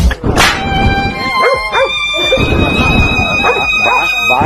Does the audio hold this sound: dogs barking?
yes